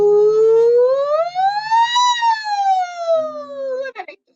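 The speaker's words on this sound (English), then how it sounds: "the singers do a really neat exercise called the siren, and they kind of go really low" Singers glide their voices smoothly from a low pitch up to a high peak and back down in a vocal siren warm-up exercise, one sustained tone with rich harmonics, close and loud, ending with a brief breathy cutoff.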